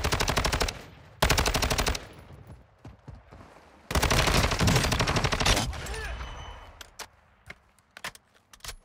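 Gunfire in the video game Fortnite, loud bursts of rapid automatic fire in two long volleys, followed by scattered single shots and clicks that fade toward the end.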